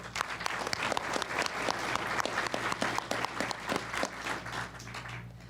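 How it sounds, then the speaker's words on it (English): An audience at a fall 2022 basic law enforcement graduation ceremony applauds, with individual claps standing out within steady, moderately distant clapping that fades toward the end. "Please offer to them a round of applause"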